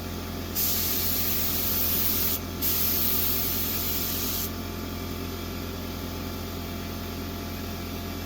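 A paint spray gun fed by an air compressor coats a steel building, giving two loud hissing bursts of about two and four seconds with a brief gap, then a low steady hum lingers after the trigger is released.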